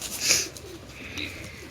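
Pigeons coo in a short, soft burst at a pigeon sale, close by, with a faint hoarse rolling call fading into low background noise.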